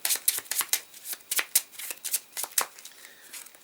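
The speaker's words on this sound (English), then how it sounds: "I'm going to have to shuffle these." Close, crisp riffle and bridge shuffling of a small deck of print-and-play game cards, a rapid irregular series of papery flutters and snaps in quick bursts, without talk.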